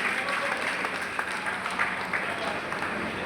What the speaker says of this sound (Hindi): तालियां बजा के अहिल्याबाई होलकर जी को एक बार जोरदार तरीके से प्रणाम करने